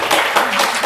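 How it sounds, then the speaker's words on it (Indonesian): A crowd claps steadily for nearly a second at a religious talk event, a dense, continuous patter of many hands filling the room with no break. "Tepuk tangan dong"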